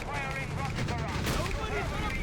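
Rocket barrage firing in the WWII strategy game Company of Heroes 3, a dense rumbling volley of launches and blasts with whooshing tones, loud and continuous, with game voice lines over it.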